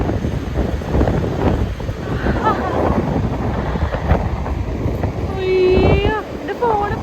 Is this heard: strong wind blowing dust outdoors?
yes